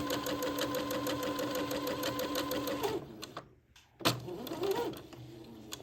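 A sewing machine runs steadily for about three seconds stitching a French seam on a frock, a close rhythmic mechanical whir, then stops, followed by brief handling clicks and fabric rustles.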